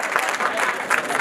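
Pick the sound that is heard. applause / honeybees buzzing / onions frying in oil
applause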